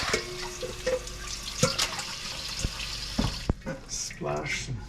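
Dishes are rinsed under a running kitchen tap, a steady close water hiss broken by clinks and knocks of crockery, with a voice briefly heard over it.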